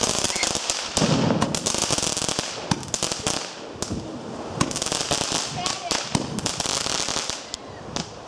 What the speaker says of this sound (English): Get away from the firework.